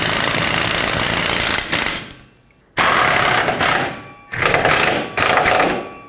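Power ratchet or impact tool tightening a nut on the rear shock of a 2008-2010 Ford F-250, running in loud sustained bursts with short pauses between them, close up and with no talk.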